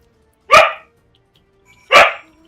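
Penelope, a pet dog, lets out two loud, sharp barks about a second and a half apart, close by, with near silence between them.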